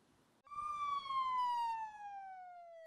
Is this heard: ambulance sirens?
yes